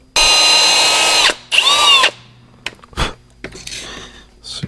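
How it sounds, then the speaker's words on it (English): A power drill whines at high speed in two long bursts through metal on a 1986 Dodge Ram pickup, followed by shorter scraping and clinking of metal pieces. "Try to drill this piece out."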